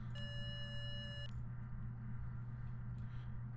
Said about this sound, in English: That's the audio sensor on the EMF, by the way, that beep.